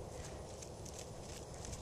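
A dressage horse cantering in an arena, its hoofbeats falling in a soft rhythmic pattern at a moderate distance, low and muffled against a steady background rumble.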